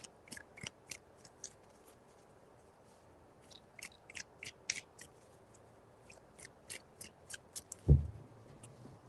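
Tarot cards shuffled three times in a quiet room, a run of crisp riffling clicks and soft flutters, fairly close, ending with a louder thump as the deck is set down.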